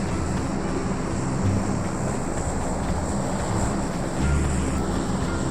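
A steady, droning vehicle engine in PUBG Mobile rumbles continuously with a broad, noisy roar, swelling slightly in a couple of spots, with no voices over it.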